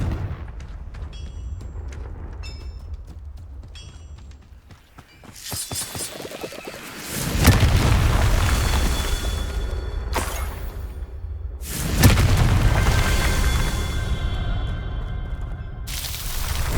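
Booming spell explosions in the Hogwarts Legacy video game, several heavy blasts arriving in bursts with rumbling low-end tails and whooshing bursts between quieter stretches, loud and close with no talk.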